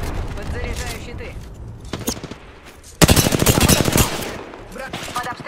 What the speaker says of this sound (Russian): Брат, под обстрелом.